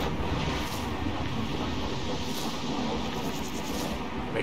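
Dust storm wind in Gas Station Simulator, a constant loud rushing roar with steady broadband noise and no talking.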